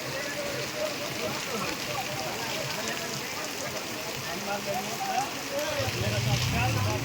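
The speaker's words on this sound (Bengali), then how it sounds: "দেখো কত জোরে জোরে বৃষ্টি পড়ছে দেখো" Heavy rain pours down steadily in Bhaluka as a dense, even hiss of drops hitting surfaces nearby, with a person talking over it.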